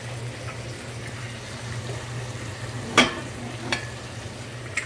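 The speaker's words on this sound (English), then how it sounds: "And then the other eggs are cooking." Eggs frying in a pan alongside a cowboy-style brunch, a steady soft sizzle running throughout with a few sharp scraping clicks from a utensil near the end.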